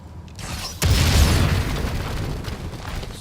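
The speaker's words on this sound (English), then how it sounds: "bomb should help us out" Bomb explosion in the video game God of War Ragnarok in the Alfheim desert, a sudden loud boom that rolls into a rumbling, crackling tail, with faint mechanical clatter before the blast.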